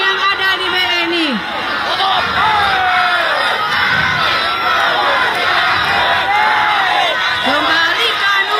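A large protest crowd outside a BNI bank shouts and chants together in loud, rhythmic bursts, dense massed voices filling the air at close range.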